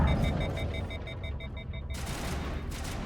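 Gunfire in Mass Effect Legendary Edition crackles in a rapid, repeated volley with beeping tones early on, loud and close amid dense combat noise, with no one speaking.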